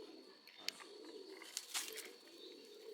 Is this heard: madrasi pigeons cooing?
yes